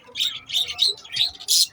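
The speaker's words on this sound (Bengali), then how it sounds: "আমার পাখিগুলো কিচিরমিচির করছে" Pet birds on a balcony chirp and squawk in quick, bright bursts, several calls overlapping close to the listener with brief gaps between them.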